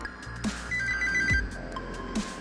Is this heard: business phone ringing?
yes